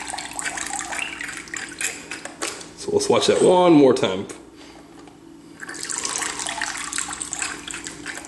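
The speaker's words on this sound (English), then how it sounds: "if you push back here on the fin, you can also fire water." A toy Octonauts Gup A vehicle squirts water in a short splashing burst, flanked by steady running-water hiss, while a person talks over it.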